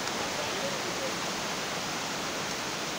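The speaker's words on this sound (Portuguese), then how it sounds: "Olha a cachoeira lá atrás." A waterfall at Atalanta, Santa Catarina, heard as a steady, soft hiss of falling water from somewhere behind on rocky ground, constant and unbroken throughout.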